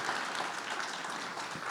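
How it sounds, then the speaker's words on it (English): A conference crowd at a startup demo day claps for Texas A&M in a brief, even burst of applause, dense and moderately distant, with no pause for its short length. "So a quick round of applause again for Texas A&M."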